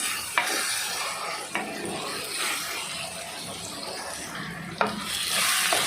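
Onion and tomato cooking down in a clay pot give a gentle sizzle broken by a few distinct scraping clinks of a spoon stirring, close and unaccompanied by talk.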